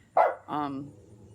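Two short, sharp dog barks close by, the second drawn out and tapering off, with no talking.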